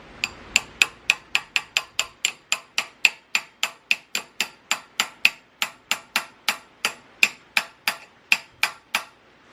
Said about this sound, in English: Just tap on it real lightly